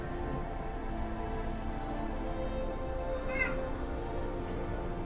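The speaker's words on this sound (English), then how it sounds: "my cats are in my room." Cats in a room meow beneath a steady bed of game music and ambience, the calls faint and blended into the mix, with one clearer meow rising briefly about two-thirds through.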